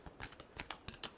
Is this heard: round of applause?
no